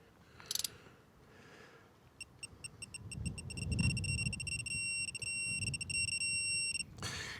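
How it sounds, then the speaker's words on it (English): A 1/2-inch digital torque wrench emits a rapid series of short high beeps that merge into a steady continuous tone at 80 ft-lb, with low mechanical rumbling and clatter underneath. "you want to make sure that you're pretty much steady beep when you're on 80"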